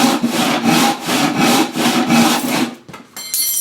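A hand saw rips through wood at a low angle with steady back-and-forth rasping strokes, about six close, loud strokes in quick rhythm before a short pause and a lighter scrape.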